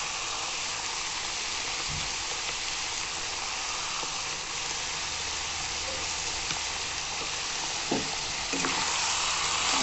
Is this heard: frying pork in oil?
yes